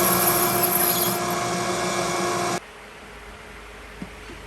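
A power drill whines steadily at close range boring a pilot hole with a pilot bit, then cuts off abruptly, leaving quiet room tone and a small click.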